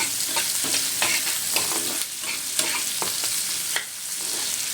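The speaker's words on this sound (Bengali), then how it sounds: "কালো জিরা ফোড়ন দিয়ে পেঁয়াজটাকে আমি দিয়ে দিয়েছি" Onions sizzle and crackle loudly in hot oil tempered with nigella seeds while a utensil scrapes and stirs the pan in quick, irregular strokes.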